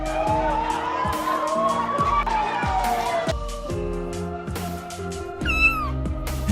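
A cat rescued from a fire meows repeatedly in a series of rising and falling cries, close and clear, over a faint background of other sound.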